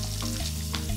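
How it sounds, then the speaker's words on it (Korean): Partly cooked, drained sweet potato pieces deep-fry in boiling oil, giving a steady, dense crackling sizzle that stays loud and continuous throughout, with no voices. "3분의 1 정도 익은 고구마는 물기를 뺀 후 끓는 기름에 튀겨주는데요"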